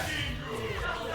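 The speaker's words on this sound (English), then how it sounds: "the crowd is popping off over Kingu's SD" An esports tournament crowd at a Rivals of Aether 2 event erupts in a loud, dense roar of cheering and shouting, close and continuous throughout.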